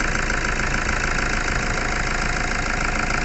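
A 2013 Toyota Fortuner with an intermittent low-power fault idles at a constant low rumble with a faint knocking texture, continuous and fairly loud with no voices.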